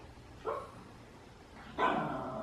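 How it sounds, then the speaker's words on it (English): A pet dog barks at a running washing machine indoors during laundry, two short sharp barks about a second apart, the second louder and trailing into a longer harsh outburst, close by with no talk. "And he's just sitting there barking at me."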